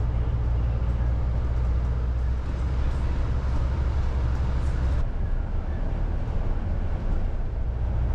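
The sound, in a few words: DLR train going overhead in Docklands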